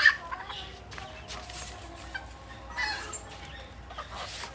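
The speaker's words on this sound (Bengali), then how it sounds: "দুইটা একদম পিওর দেশি মুরগি এগুলো।" Two pure native Bangladeshi deshi hens cluck softly in a farm enclosure, scattered short calls over a steady low background hum, fairly faint, with no talk.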